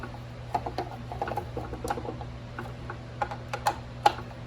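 Bolt holding the blade on a DeWalt miter saw being tightened, giving a string of small irregular metallic clicks and ticks, close and fairly quiet over a low steady hum.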